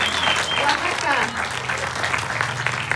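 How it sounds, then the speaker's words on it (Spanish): An audience applauds for indigenous women at a gathering, a short, steady burst of clapping from a crowd with a voice speaking over it. "Les damos un aplauso"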